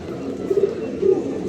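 Pigeons coo close by in low, soft, rolling calls, two short bursts of throaty warbling over a quiet room background.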